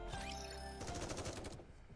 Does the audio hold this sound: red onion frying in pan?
no